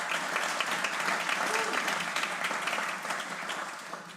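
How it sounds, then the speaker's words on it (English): Conference audience at a DevOps event applauding its sponsors, dense sustained clapping from a large hall that gradually tapers off toward the end. "So clap your hands once more for our great sponsors."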